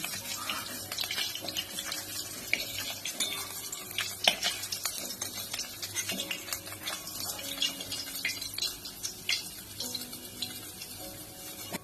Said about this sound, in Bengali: দুটো আলু টুকরো করে কেটে রেখেছিলাম, ভেজে নিচ্ছি।